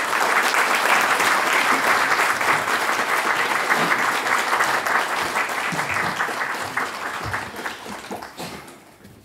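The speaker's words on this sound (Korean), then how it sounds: "박수로 환영하겠습니다" A church congregation at a Sunday service claps steadily to welcome a preaching pastor, a dense, sustained round of applause that fills the room and gradually thins out and fades near the end.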